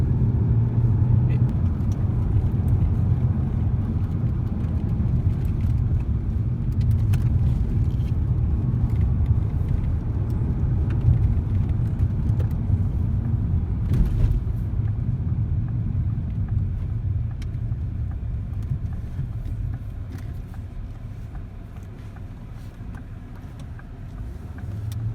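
A Ford Mondeo Titanium X Sport's 2.5 litre Duratec five-cylinder engine runs with a steady low rumble that holds constant for the whole stretch, easing slightly toward the end, with some wind noise and no talking.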